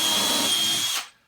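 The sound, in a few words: power drill drilling into prop supports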